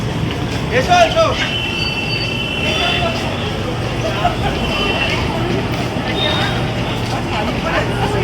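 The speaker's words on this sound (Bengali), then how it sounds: "ওদের ট্রেন 6:45-র মধ্যে ঢুকে যাবে" A train pulls into a station with a low rumbling roll, steady noise and a few thin metallic squeals of wheels, heard from close by while people talk.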